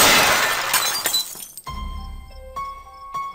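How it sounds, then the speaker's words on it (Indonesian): A glass object smashes, a loud crash followed by scattered tinkling shards and a few lingering clinks as the pieces settle, with no voices. "mereka dikagetkan dengan suara terbantingnya benda dari kaca"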